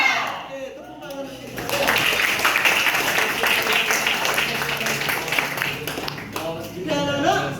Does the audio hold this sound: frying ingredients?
no